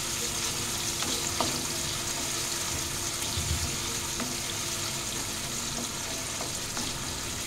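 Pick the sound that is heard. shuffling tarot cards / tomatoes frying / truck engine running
tomatoes frying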